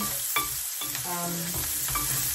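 Garlic and onions fry in a pan for dinuguan, pork blood stew, with a steady sizzle under brief stirring clinks and scrapes. It is close and moderately loud, and no one talks.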